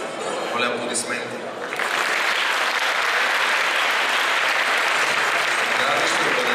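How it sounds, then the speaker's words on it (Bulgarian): Audience applauding the winner of a competition, a thick, sustained wave of clapping that swells up after a brief moment of talk and stays loud and steady. "Моля аплодисменти."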